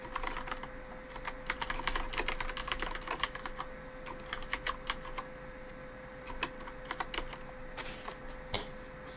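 Someone types on a computer keyboard during a tabletop Dungeons and Dragons session, producing steady, close key clicks in uneven runs over a constant low electrical hum, with no talking.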